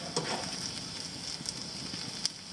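Onions and squash grill over a camp stove at an Arizona beach campsite, giving a steady soft sizzle with scattered small crackles and pops, close and fairly quiet, with no talking.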